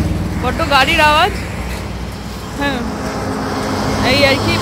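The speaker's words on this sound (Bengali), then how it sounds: "গাড়ির আওয়াজ" A car travelling on a road produces a steady low engine and road rumble that runs throughout, heard from inside the vehicle beneath bursts of nearby talking.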